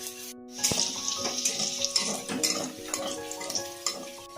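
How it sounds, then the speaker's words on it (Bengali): Four dried red chillies sizzle in hot ghee in a pan, a steady close frying hiss with the clink of a spoon stirring throughout. "আমি দিয়ে দেব 4টে শুকনো লঙ্কা।"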